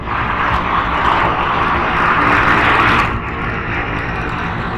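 Royal Enfield Classic 350 motorcycle riding along a flyover at night, a loud continuous roar of engine and rushing wind that dips slightly toward the end.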